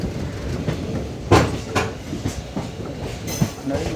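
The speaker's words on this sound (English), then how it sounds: "And I think that's a freight train on the line from Jolarpettai." A freight train hauled by a WAG electric locomotive passes on the adjacent line on the Jolarpettai bypass, a dense rumbling wash with sharp clickety-clack wheel hits, heard close from a moving express train.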